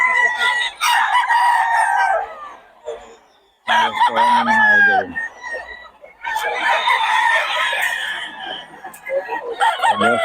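Young roosters (stags) about 11 months old at a market in Bocaue crowing loudly and repeatedly up close, with clucking in between.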